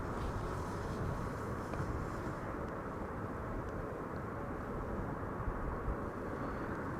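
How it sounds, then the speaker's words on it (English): A Mitsubishi CRJ 900 airliner on SK Flight 557 from Stockholm arrives at the airport. Its engines make a steady, broad roar that holds evenly throughout at moderate distance, with no talk. "Second CRJ of the show, SK Flight 557, arriving from Stockholm"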